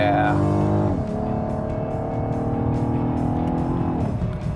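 A 2015 Cadillac ATS coupe with a twin-scroll turbo engine accelerates hard through the gears, its loud, close engine note rising, dropping at a shift, then climbing again steadily throughout.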